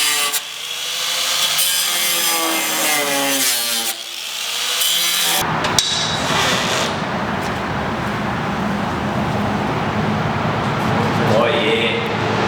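Fiberglass widebody panel on a Nissan Titan is sanded by hand with rough, steady rubbing strokes, close and fairly loud, while people talk over the first few seconds.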